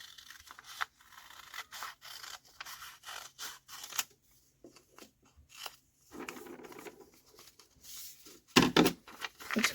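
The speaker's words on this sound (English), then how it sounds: "And now we're going to draw the outline of half a heart. And cut it up." Scissors snip through paper while cutting out a half-heart outline for a Valentine's craft: short, close, crisp cuts come in irregular clusters with brief pauses, and a louder scraping burst comes near the end.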